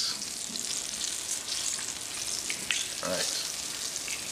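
Steady, crackling frying of fish in hot oil fills the clip, with a brief spoken word and a few clinks of a utensil near the end.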